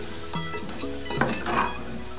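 A spoon scrapes and clinks through chicken curry mixture in a pan in a Kerala-style kitchen, several short strokes over a low steady hiss of cooking, no one speaking.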